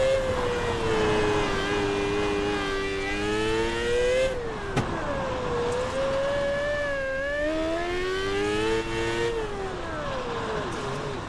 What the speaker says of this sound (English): But you can hear it bogging down. If you get the car too sideways, it will bog down.